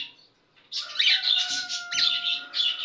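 Small birds chirp nearby after a quiet start, their high, busy twittering overlapping and continuing steadily to the end.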